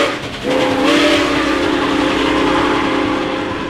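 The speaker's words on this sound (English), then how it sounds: "And with this nickel plate road 765, a very historic large steam train." The steam whistle of Nickel Plate Road 765, a large historic steam locomotive, sounds loud and close in one sustained blast that starts abruptly and holds steady over a rumbling engine.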